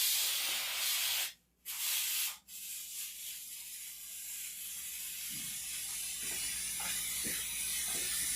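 A cooking pot on the stove hisses with a sharp, spraying rush of steam, broken by two short dropouts, then a fainter steady hiss with scattered small clicks and rattles afterward.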